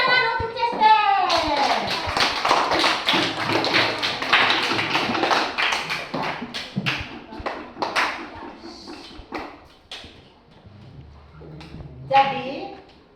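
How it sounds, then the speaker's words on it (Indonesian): A classroom of children claps for a classmate, with loud, ragged rapid hand claps at first that thin into scattered taps while kids' voices and a teacher speak over them. "tepuk tangan untuk Chester"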